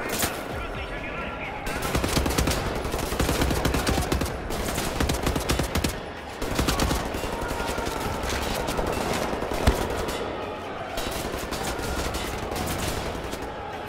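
Automatic turrets in the shooter game Wolfenstein: The New Order fire in sustained, dense rattling bursts that stay loud throughout, with brief dips, under a player's talk.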